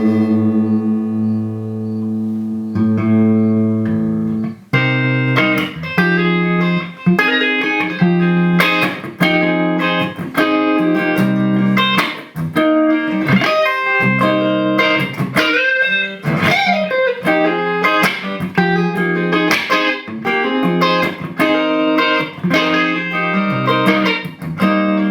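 PRS SE Zach Myers electric guitar on the neck pickup, volume and tone fully up, played loud and alone: a sustained chord rings first, then a busy run of picked notes and chords.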